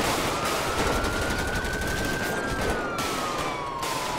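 Gunfire in a police video game, a rapid rattle of shots layered over a wailing siren that rises and falls, loud and continuous throughout.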